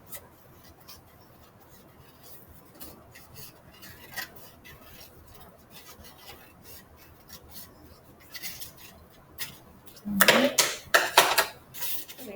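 Faint rubbing and handling noises give way to a quick series of crisp scissor snips through paper close by, several cuts in a row near the end.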